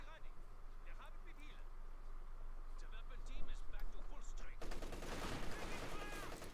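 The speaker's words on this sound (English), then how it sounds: "machine gun opening up there for the fatherland" Machine gun fire rattles in a Company of Heroes 2 battle, distant bursts and scattered shots under a commentator's talking, swelling into a louder, denser fusillade in the final seconds.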